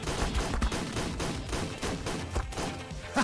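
Gunfire from a pistol shooting at a level 150 wyvern in Ark Survival Ascended: a rapid, loud, close volley of repeated shots over a few seconds, with no talk.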